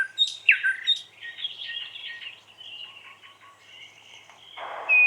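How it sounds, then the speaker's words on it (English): Birdsong ambience played as a sound effect: bright chirps and whistled tweets at the start, then softer overlapping calls over a quiet background, ending with a short burst of hiss. "birds singing."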